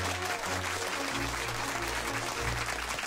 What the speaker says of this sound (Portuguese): Uma salva de palmas para Daniel Boaventura!